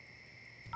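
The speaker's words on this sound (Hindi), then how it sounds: "तुम चिंटू को फोन लगाओ" A single steady telephone dialing tone holds throughout, then a brief second dual-tone beep sounds at the very end, faint and clear with no speech.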